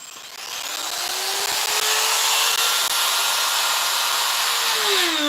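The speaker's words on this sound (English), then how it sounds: "Die grinder. There we go." A die grinder carving wood spins up and holds a loud, steady high-pitched whine, its pitch sliding slightly as it bites into the wood, with a quick drop in speed near the end and no voices.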